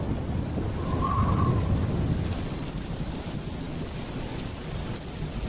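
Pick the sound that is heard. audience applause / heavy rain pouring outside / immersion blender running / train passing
heavy rain pouring outside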